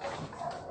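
Frightened shelter dogs hide under a desk and whimper softly and continuously over a dense, noisy room background. The sound is short.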